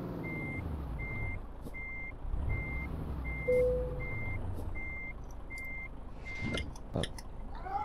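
A truck in Euro Truck Simulator 2 backs up toward a trailer, its reversing beeper pulsing evenly about nine times over a low engine rumble, followed by a hiss of air brakes and a clunk.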